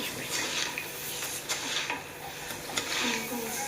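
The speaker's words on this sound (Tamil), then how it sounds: "இப்போ பாதி மல்லி எடுத்து வச்சுருக்கோம் அதையும் வறுத்துக்கலாம் நல்லா வறுப்படட்டும்" Coriander seeds dry roasting in a pan for homemade kuzhambu spice powder, giving a soft continuous rattling sizzle as they are stirred, with faint scraping throughout.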